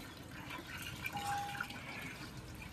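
Water being poured to fill a small clay pot set out as a drinking bowl for birds, a soft steady trickle and splash running quietly throughout.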